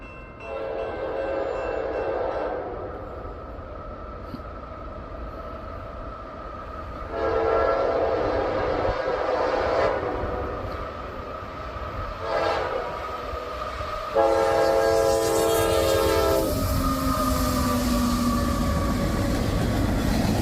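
A CSX freight train approaches a crossing with a rumbling roar underneath, while its horn sounds in several long blasts that grow louder and closer, the last one the strongest.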